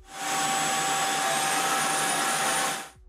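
A cordless wet-dry floor vacuum cleaner runs with a steady, loud whirring roar for a few seconds, then winds down.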